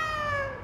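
A cat gives a single clear, close meow with a strong harmonic tone that slowly falls and fades.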